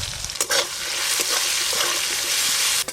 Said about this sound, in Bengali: আলুগুলো তো একটু একটু ভাজা হয়ে এসছে